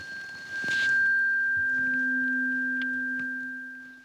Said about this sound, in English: A tuning fork.